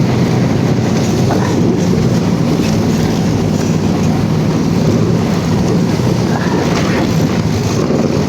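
Motorized tow sled hauling a load of manure over an uneven road in hard frost, a loud, steady, close engine drone with constant rumbling from the rough ride and no gaps.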